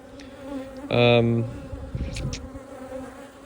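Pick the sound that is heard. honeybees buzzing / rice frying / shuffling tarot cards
honeybees buzzing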